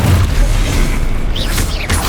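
Confringo fire spell cast in Hogwarts Legacy, a loud booming blast with a dense low rumble that holds steady across the moment, a brief burst rising near the end amid game noise.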